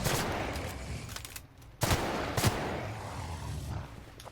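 Gunfire from a sci-fi shooter game, a burst of dense rapid shots that briefly cuts out around the middle and then resumes as sustained, loud automatic fire.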